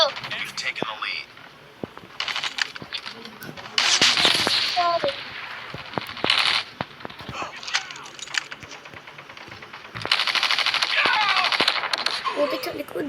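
Gunfire in a shooter video game: bursts of automatic weapon fire and single sharp shots at irregular intervals, loud and close, with brief lulls between volleys and people talking now and then.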